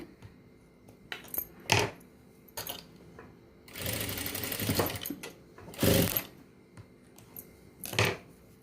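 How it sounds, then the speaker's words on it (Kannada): A sewing machine stitches a cloth purse made from leftover fabric, running in short close bursts of rapid mechanical whirring, one longer run in the middle, separated by quiet gaps and small handling clicks. "ಇದನ್ನು ಕೂಡ ಹಿಂಗೆ ಮುಚ್ಚಿ ಹೊಲಿಗೆ ಹಾಕೋತೀನಿ."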